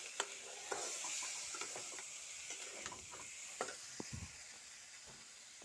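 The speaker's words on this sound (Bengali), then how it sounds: "ভালো করে মশলাটা কষিয়ে নিচ্ছি।" Spice paste stir-fried in a pan for a lentil-fritter curry, with a steady sizzle and spatula scrapes and taps scattered irregularly throughout, moderately close.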